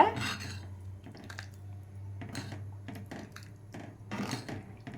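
Orissa-style fish curry is stirred in a pot with scattered scraping and clinking strokes of the utensil. A steady low hum runs underneath throughout.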